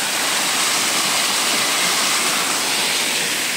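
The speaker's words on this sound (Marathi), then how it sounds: "हा पाणी एकदम डोंगरातून येतो वर, एकदम रानातून" A forest waterfall fed by water running down from the mountains, heard up close as a loud, dense, unbroken roar of falling and flowing water with no voices.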